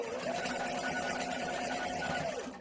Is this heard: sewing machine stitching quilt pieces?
yes